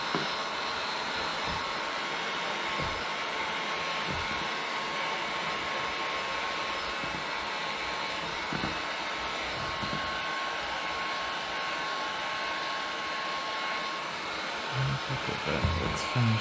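A heat gun blows a steady, close airy roar while warming window tint film on a Honda Civic, holding constant throughout with a few faint handling bumps and no talk.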